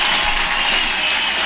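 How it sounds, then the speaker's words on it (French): Dense, steady applause from a church congregation praising Jesus, a broad wash of many hands clapping together close and loud for a brief moment. "Acclamez le Seigneur Jésus."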